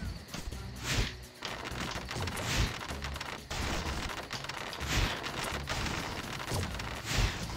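Gunfire from the Power Rangers Super Legends video game, a dense run of repeated shots and bursts over a steady loud game soundscape, with several stronger blasts spaced through it.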